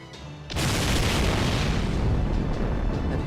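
A barrage of explosions in the Fate/Grand Order game erupts after a quiet half-second, becoming a loud, sustained roaring boom that keeps rumbling to the end.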